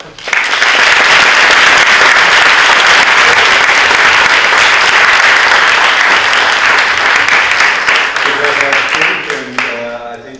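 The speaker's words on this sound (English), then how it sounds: "we need a big hand of applause for this wonderful panel" Loud, sustained applause from a conference audience after an energy-transition panel discussion, filling about nine seconds before fading into a speaking voice at the end.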